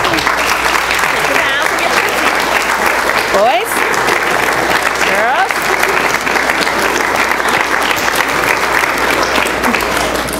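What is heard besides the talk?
audience applauding preschool performers taking bows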